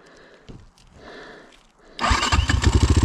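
A motorcycle with a broken clutch and ignition, stuck in a forest, is started: after quiet rustling and a brief crank, the engine catches and runs loud and close with a fast, rough putter.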